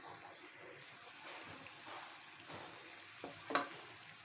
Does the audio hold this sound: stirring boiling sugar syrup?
yes